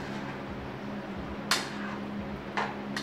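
A spoon stirring a vegetable dish in a cooking pot, giving soft scraping, then two sharp metallic clinks against the pot about a second apart, alone without talk.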